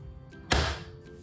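A single short click as the lid of a jar of peach jam is twisted back, close and crisp, against a quiet background.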